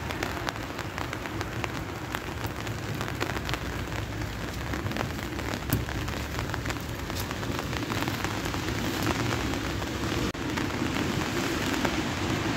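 Steady rain falling on young fir trees, a dense, even patter of drops landing close by without pause, with no voices heard.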